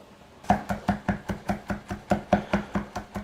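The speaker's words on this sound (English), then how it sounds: "I'm going to mince up a couple cloves of garlic." A knife chops rapidly through garlic cloves on a cutting board in a kitchen, about fifteen crisp, evenly spaced knocks, close and clear with no talking.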